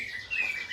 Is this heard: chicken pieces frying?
no